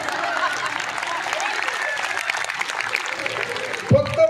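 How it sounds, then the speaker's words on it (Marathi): Women in an audience clap together in a dense, steady burst of applause that holds for about four seconds before breaking off, with a voice briefly heard at the end. "फक्त बाया टाळ्या वाजवा"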